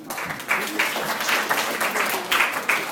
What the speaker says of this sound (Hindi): आप सबों को हम तालियों से स्वागत करते हैं जी।